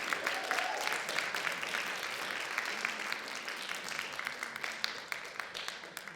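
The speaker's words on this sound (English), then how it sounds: "Let's give them another round of applause, please." A crowd claps for a band after a performance, steady dense applause with scattered sharper claps standing out, moderately distant and continuous throughout.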